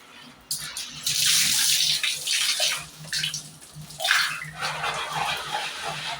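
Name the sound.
water poured over bathroom taps while scrubbing them clean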